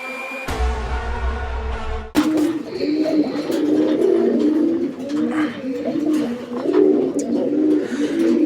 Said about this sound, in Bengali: শুরুতেই আমরা দেখতে পাচ্ছি অনেক চমৎকার একজোড়া কবুতর